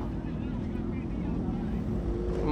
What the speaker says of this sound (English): Okay, here comes more bikes.